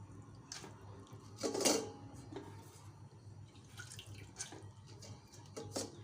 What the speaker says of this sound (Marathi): तर हे बघा अशा प्रकारे पोहे चाळणीमध्ये तुम्ही काढून घ्या